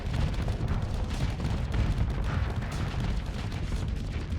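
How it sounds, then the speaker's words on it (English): Volley cannons in the space combat game Starsector fire in a dense, rumbling barrage, continuous heavy booms and crackling blasts overlapping with no pauses and no talk. "Yeah, and then we just spew forth volley cannon"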